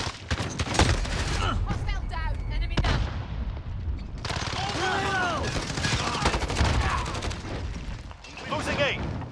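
Dense automatic gunfire and scattered single shots in a Call of Duty: Modern Warfare multiplayer match, loud and continuous, with shouted voices and game announcer callouts over the shooting.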